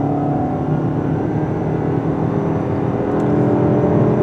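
A 2021 Lexus ES 300h hybrid accelerates hard from a standstill toward 60 mph, a smooth, steady engine and road hum building gradually inside the cabin, with no voices.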